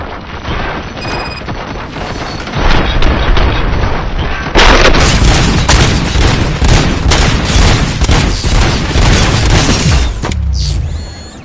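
Heavy gunfire and booming blasts in a RoboCop scene: dense, loud volleys of shots and rattling bursts that build into a sustained barrage, then cut off sharply near the end.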